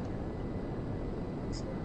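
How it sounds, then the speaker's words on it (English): A jet in GTA V Online flies past as a steady, dense engine roar, loud and close, holding evenly for a couple of seconds. "That jet's still flying yes, jet's still flying."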